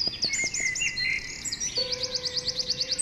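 Cartoon nightingale song: a run of bright, rapid, looping whistled phrases followed by a steady sustained tone under a quick series of repeated chirps, close and clear with no talking.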